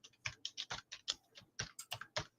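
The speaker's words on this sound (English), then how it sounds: "Here's somebody clapping away on the keyboard." Someone types on a computer keyboard, a quick uneven run of close, crisp key clicks and taps with short pauses, with no talking.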